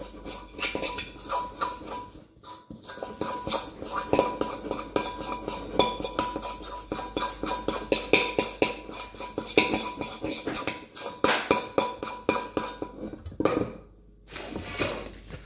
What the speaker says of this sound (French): Donc je vais mélanger mes jaunes là à ma farine